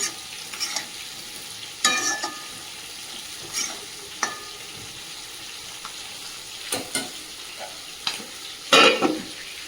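Prawn chorchori with Malabar spinach and potato cooks in a pan, giving a soft, steady sizzle broken by scraping stirs and sharper clatters of a spoon against the pan.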